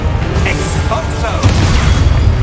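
Expulso spell explosion in the Hogwarts Legacy video game, a heavy booming blast with deep rumbling that swells midway through a short burst of loud game noise, with voices mixed in.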